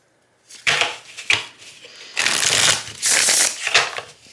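A Mermaid Tarot deck printed on glossy Llewellyn cardstock being shuffled up close in several bursts of crisp riffling and sliding, separated by short pauses and quiet handling.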